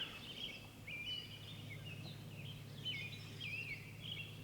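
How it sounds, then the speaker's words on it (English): Birds sing by a lake in a string of bright, warbling whistles and chirps at moderate distance, set over a steady low outdoor hum with no talking. "Let you listen to the birds."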